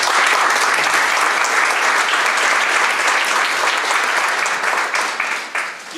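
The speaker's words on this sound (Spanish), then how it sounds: "Recibimos con un aplauso a Cintia Luc." Loud, sustained audience applause at an educational conference, dense and even for several seconds before tapering off toward the end.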